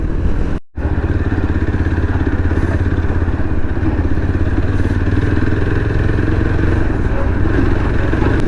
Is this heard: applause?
no